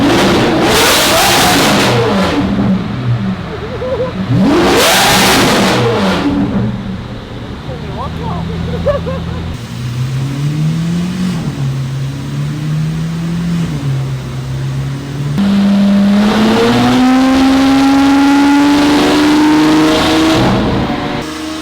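A Lamborghini SVJ engine winds up on a dyno in fifth gear, loud and close, its pitch climbing steadily in long sustained pulls, interrupted by bursts of rushing noise and ending in a rising high-rev wail.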